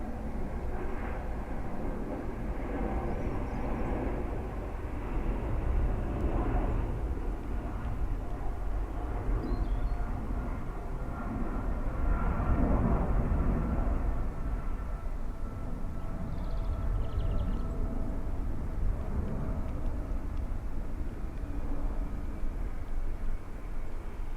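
An airliner arriving at Dublin Airport, heard as a steady broad roar of jet engine and rushing air that swells gently and persists throughout, with no talk.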